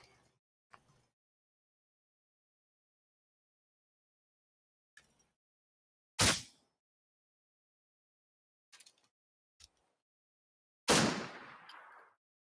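Suppressed gunfire in a raider-themed video game: a few isolated muffled shots spaced seconds apart, two louder bursts standing out against near silence, with no talking.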